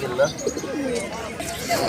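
Pigeons coo in short, soft bursts at a busy pigeon market in Fatullah, Narayanganj, half buried under the surrounding crowd babble and nearby chatter.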